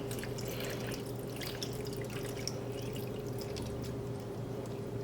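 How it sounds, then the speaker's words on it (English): Beef stock being poured into a pan of short ribs with garlic and onions, a steady quiet liquid trickle and splashing heard close up and alone. "And then we're going to pour in our beef stock."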